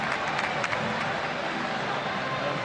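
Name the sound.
boxing crowd applauding Rosberg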